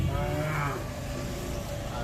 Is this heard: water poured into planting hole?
no